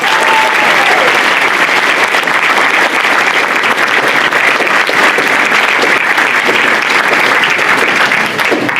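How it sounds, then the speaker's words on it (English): Loud, continuous applause from an audience at a 2024 high school scholarship and awards night, thick steady clapping throughout with no pause. "So if we could give her a great round of applause."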